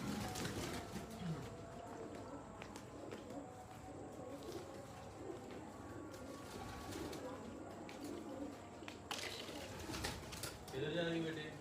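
Low coos from Teddy pigeons repeat softly in the background, mixed with clatter and indistinct voices nearby.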